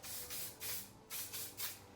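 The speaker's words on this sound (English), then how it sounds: "Now I can spray through." Hairspray is sprayed in quick repeated bursts onto set hair on a mannequin head, styled in a shampoo-and-set look. About five close, loud airy hisses come in uneven rhythm with brief gaps between them.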